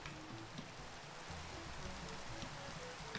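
Rain falls steadily in the Minecraft Pixelmon video game, a soft, dense, continuous patter and hiss at low volume with no other sounds over it.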